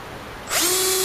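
A DeWalt 12-volt cordless power drill spins up about halfway through after near silence, its motor whine rising in pitch and then holding steady, close and loud, with no talking.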